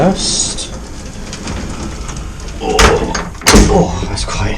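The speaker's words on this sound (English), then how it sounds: "So let's close this door first." Heavy old hotel door, apparently a lift door, swung shut with a couple of loud thuds and clanks near the end, preceded by creaks and shuffling in a reverberant space.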